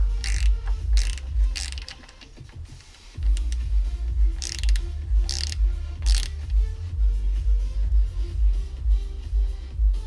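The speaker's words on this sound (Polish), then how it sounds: "Więc teraz spróbuję tą śrubę trochę rozruszać." A wrench ratchets back and forth on a bolt of a go-kart brake in a workshop, making a dense series of close, rhythmic clicking strokes with a brief pause partway through and no talk.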